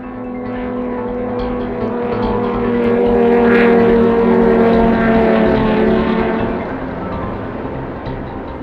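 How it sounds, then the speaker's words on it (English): Powerful racing powerboat engines roar past at a Grand Prix race in Oslo harbour, swelling to a loud droning peak and then fading slightly as they move away. "Scandinavian Grand Prix for the world's largest and fastest racing boats"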